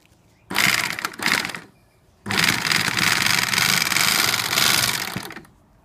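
A Newlong NP-7A sewing machine with UV thread stitches through four layers of geofabric and four of shade cloth. Two short loud bursts of rapid mechanical clatter are followed by a pause, then a longer steady run. No talking.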